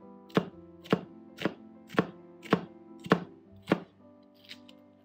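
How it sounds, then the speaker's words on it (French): Knife dicing an onion on a cutting board, seven sharp, evenly spaced chops about half a second apart, close and clear over a faint tonal background. "on va commencer par ciseler notre oignon"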